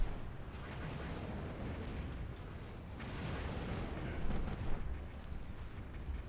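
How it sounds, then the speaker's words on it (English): Artillery barrages rumble and boom continuously in a Total Annihilation real-time strategy battle, a dense, loud low roar with scattered sharper blasts swelling around the middle. "He's got a pretty fearsome group of artillery here"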